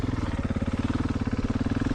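A Husqvarna 701 dual sport motorcycle engine runs steadily at a low idle, with a close, even rhythmic thumping pulse and no talk.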